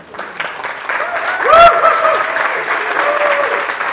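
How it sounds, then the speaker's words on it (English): Conference audience clapping softly and briefly in a hall, subdued applause running under a speaker's voice that carries on throughout. "we'll just clap quietly for all her effort."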